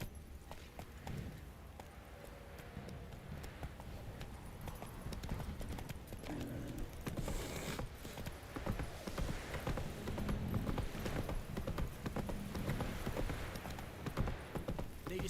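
In The Witcher 3, the horse Roach gallops with steady, rapid clip-clopping hooves that run continuously over a dense background of game sound.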